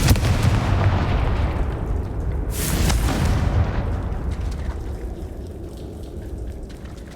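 Loud fiery explosions from a Confringo fire spell in the Hogwarts Legacy video game, a sustained booming roar with a sharp blast burst in the middle that gradually fades off.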